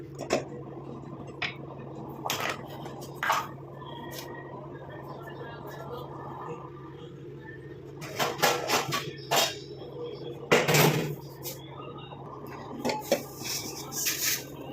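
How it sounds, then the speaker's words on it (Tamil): Roasted powder ingredients tipped from a pan onto a plate, with scattered clinks and scraping taps of metal against dishware under steady background hum. "அப்படியே தட்டில் கொட்டியாச்சு எல்லாத்தையும்."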